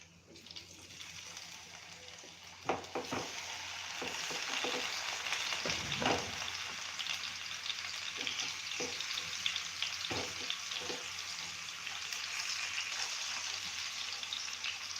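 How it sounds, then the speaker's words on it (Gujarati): Tomatoes dropped into hot oil in a pan for red chilli chutney, a loud continuous sizzle with some sputtering and a few sharp clinks of utensils, heard close up. "આપણું તેલ ગરમ થઈ જાય એટલે આપણે એમાં ટમેટા મૂકીશું જો આવી રીતે આપણે ટમેટા મૂકી દેશું"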